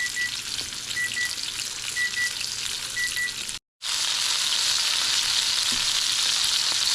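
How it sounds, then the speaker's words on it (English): Chicken sears in a hot pan with a steady, close, loud sizzle and crackle that holds throughout, broken only by a brief silent gap partway through; faint repeating beeps sound in the first half. "So I'll sear this meat."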